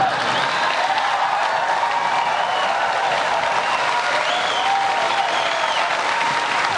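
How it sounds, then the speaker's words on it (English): A studio audience claps steadily at a political talk event, a dense, even wash of many hands that holds loud and unbroken throughout with a faint murmur of cheering mixed in. "And that gets a lot of applause here."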